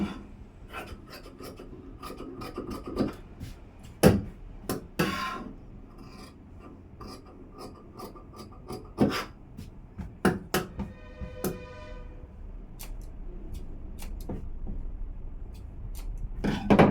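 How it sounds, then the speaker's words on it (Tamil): Scissors cut through blouse fabric during boat-neck blouse tailoring, giving scattered crisp snips and scraping rasps against a cutting surface, close and fairly quiet, with irregular pauses between cuts. "நான் இவ்வளோ நேரம் எடுத்துக்கிட்டு கட்டிங் பண்ணிகிட்ருக்கேன்"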